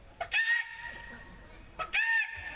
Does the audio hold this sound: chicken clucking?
yes